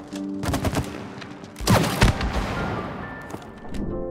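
Gunfire from the third-person shooting section of the video game It Takes Two: several close, loud bursts of rapid shots with heavy booming impacts, followed by a busier stretch of lighter game effects.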